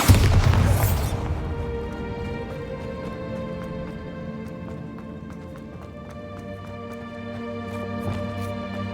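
A Bombarda explosion spell bursts in the video game Hogwarts Legacy: one loud, booming blast at the very start fades into a steady rumble and scattered game effects.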